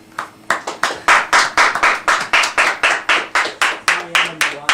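Studio clapping in a radio station studio after a live performance, a steady run of close, crisp claps at a brisk even rhythm, fairly loud, from a small group rather than a crowd.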